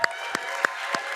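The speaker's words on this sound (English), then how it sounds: "Please stand so we can applaud you." Audience applause in a meeting room at a community college board of trustees session, a steady wash of many hands clapping with a few sharper, louder claps standing out at regular intervals, fairly close and with no talking.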